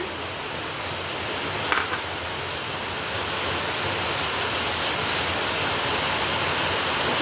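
Water in a pot heating for monkey jack (vante) saaru gives a steady, dense rushing hiss, continuous and fairly loud throughout, with one faint brief clink partway and no speech.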